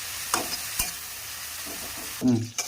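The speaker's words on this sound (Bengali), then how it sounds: "আমি পেঁয়াজটাকে ভালো করে কষিয়ে নেবো, ব্রাউন ব্রাউন করে ভেজে নেবো" Onion and spice masala fries in a pan with a steady sizzle, broken by a few sharp scrapes of a spatula stirring and one louder stirring burst near the end.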